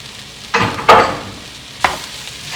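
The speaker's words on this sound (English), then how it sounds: "So I'm going to add the diced up sausage to it." Diced sausage tumbled into a pan of softened vegetables, giving a sharp sizzle burst and a scraping stir, then a second louder stir-and-sizzle about a second later, fading between strokes.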